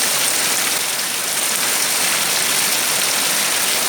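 Heavy rain pours steadily in front of a house in Pattani, Thailand, a dense, continuous hiss with no breaks or voices across the whole stretch.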